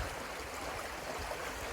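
A mountain stream near a campsite off the Appalachian Trail flows with a soft, steady rush of water, faint and continuous with no voices.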